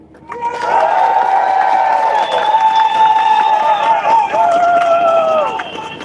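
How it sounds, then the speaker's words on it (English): At a farmers' protest against inheritance tax, an outdoor crowd breaks into sustained applause mixed with cheering and shouted voices, loud and steady for several seconds before easing off. "Come on, another big round of applause for Jess Sharp there."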